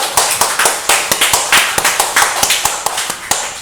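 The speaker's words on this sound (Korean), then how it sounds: "우리 하나님께 감사와 영광의 박수 올립니다" A church congregation claps at the close of a Sunday worship service, loud rhythmic hand claps in a steady, fairly even beat with no voices over them.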